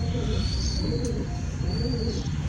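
Pigeons being shown for sale in Tarn Taran coo low and steady against constant background noise. No one speaks.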